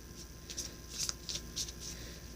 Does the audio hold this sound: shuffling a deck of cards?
yes